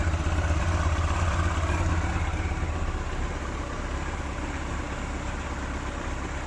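A Yamaha R1 5JJ motorcycle engine idles at around 1,000 rpm, a steady, low, even rumble close by, slightly louder at first and then settling to a constant level, with no talking.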